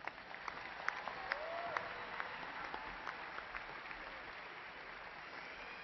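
Scattered applause from a university commencement crowd honoring graduates at Angelo State University, fairly distant and soft, with sharp individual claps standing out over a steady murmur.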